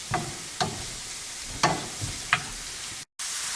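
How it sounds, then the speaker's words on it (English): Vegan chick'n pieces sauteing in a pan for marsala give a soft, steady sizzle beneath several distinct stirring scrapes and clacks, fairly close, ending with a brief dropout near the end. "So I'm just going to saute these for about 3 minutes"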